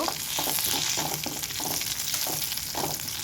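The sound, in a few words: frying curry leaves for chicken palak green masala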